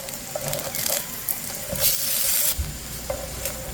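Sweet potato pancake batter frying in a pan, a steady close sizzle with intermittent bursts of scraping and stirring from a utensil, no voices.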